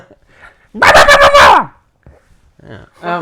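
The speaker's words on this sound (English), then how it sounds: "That's my dog." A pet dog gives a loud, close burst of rapid yapping barks lasting under a second, followed by a couple of softer whines, with brief indoor talk around it.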